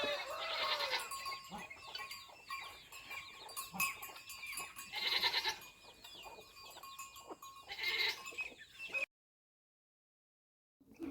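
A goat kid bleats loudly and nearby in a rural village yard, three wavering cries spaced several seconds apart over faint background noise, followed by a moment of silence at the end.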